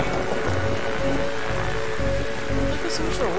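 Steady rain and storm noise from the video game The Darkside Detective, a continuous wash of falling rain with low rumble underneath, faint speech-like tones mixed in.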